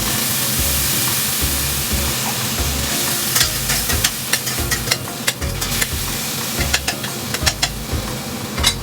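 Corned beef frying in a hot pan with garlic, a loud continuous sizzle with repeated scraping and stirring strokes of a utensil against the pan throughout.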